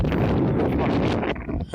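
Strong wind on Manapad Beach roars steadily into the microphone as heavy buffeting rumble, easing briefly near the end before gusting again.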